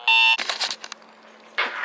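A loud alarm clock blares a sharp electronic tone, then cuts off into brief clattering handling noise, followed by a short burst of the alarm sounding again.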